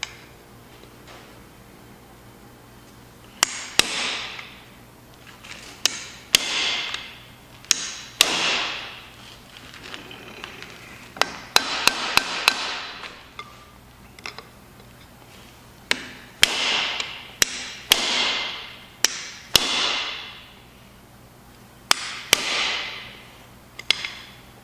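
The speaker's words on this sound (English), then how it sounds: "Take our pry bar. They used some wild silicone there, that's for sure. So we're gonna get this off." Metal pry bar working a silicone-sealed front-end part off a Massey Ferguson 4607M tractor: a series of sharp knocks and clunks with scraping, arriving in irregular bursts with pauses, fairly close and loud, no voices.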